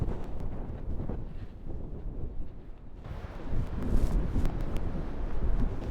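Strong gusting wind buffets the microphone on a cliff-top path of steps zigzagging down toward a waterfall on a rugged northern Scottish coast, a steady roar that swells louder in the second half.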